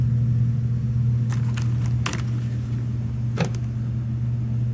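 A Bissell PowerForce Compact Turbo vacuum cleaner with a 6-amp motor, found at the curb, runs with a loud, steady droning hum, and a few faint clicks and rattles come through on top.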